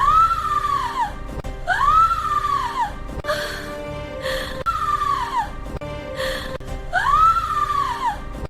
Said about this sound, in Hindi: आर्या की चीख से महल गूंज उठा।